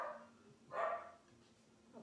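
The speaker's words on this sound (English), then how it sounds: "That's my dog." A dog lets out a single sharp bark, close and moderately loud, during a quiet morning yoga-for-runners session, with soft background hush before and after.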